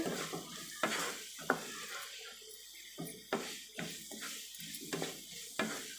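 A spicy potato fry being turned in a pan, several distinct spoon scrapes and knocks against metal over a soft sizzle, near and with no talk.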